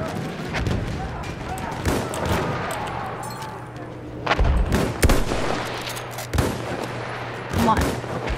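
Gunfire in the Battlefield 1 World War I shooter, with rapid rifle and machine-gun shots, heavy booming blasts and thuds from a tank battle, dense and continuous, mixed with a player's excited voice.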